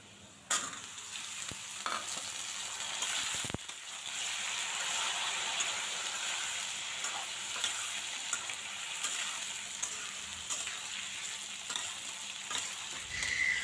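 Pointed gourd (potol) and other vegetables fry and sizzle in oil in a pan, a steady close crackle, with a few clanks of a stirring utensil and no talk.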